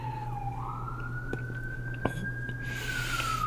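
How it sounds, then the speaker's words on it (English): A faint emergency siren wails in the distance, its tone sliding up, holding steadily, then easing back down, under a constant low electrical hum. "there's sirens going off in the background"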